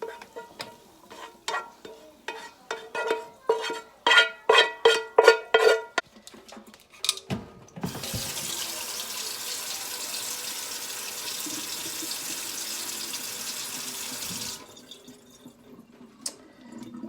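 A string of clinks and scrapes as cooked meat for slow cooker chili is handled at the kitchen sink, then a steady rush of pouring, draining liquid for several seconds before it stops.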